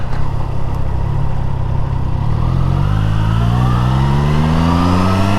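A Triumph Trident 660 motorcycle accelerating hard in fifth gear with a strong roll-on: close, loud engine and wind noise with a steadily rising engine tone, alone without talk.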